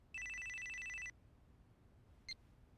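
A flip phone in the Yakuza 4 video game rings with a single electronic trill lasting about a second, followed by a short chirp, against quiet background.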